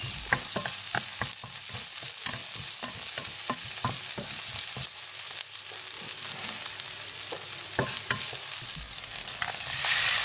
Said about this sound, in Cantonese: 用中火將啲蔥炒香